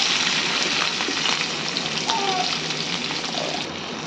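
Onions frying in a pan for Andhra-style chicken curry, a dense, steady close-up sizzle with faint scraping as they are stirred, no talking.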